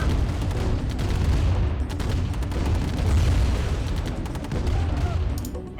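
Steady booming and rumbling gunfire roll on as a structure is blown up in Command & Conquer Remastered, Tiberian Dawn Covert Operations, dense and loud throughout without clear pauses.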